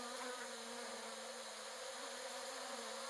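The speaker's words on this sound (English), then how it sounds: "This is his swarm installation that gives voice to 250 bees through individual speakers that represent each bee." Swarm sound installation voicing 250 bees through individual speakers: a dense, continuous insect buzz with a steady drone, loud and unbroken throughout, no voices.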